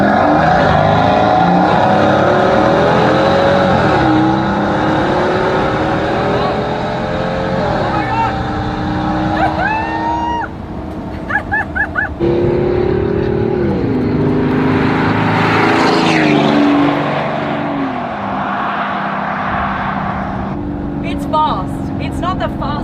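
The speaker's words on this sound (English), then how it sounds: "what you really feel is the sound from the engine" A Maybach Exelero V12 twin-turbo engine pulls hard through rising revs, and the pitch climbs and drops again at each gear change. It sounds loud and close from inside the cabin, and voices talk over it throughout.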